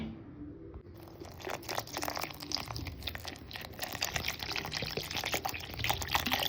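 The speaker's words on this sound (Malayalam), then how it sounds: "ഇനി കുറച്ച് വെള്ളം ഒഴിച്ചു കൊടുക്കാം" After a brief quiet moment, water pours steadily into a vessel, a continuous splashing gurgle that grows slightly louder.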